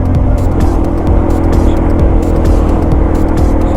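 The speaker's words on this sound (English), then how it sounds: "Somebody's been practicing their launches" A Yamaha TDUB vehicle accelerates hard in a launch on back-road forest trails in the Talladega National Forest: a very loud, continuous engine roar with rough rumbling, heard close throughout.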